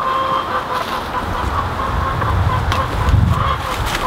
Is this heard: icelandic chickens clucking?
yes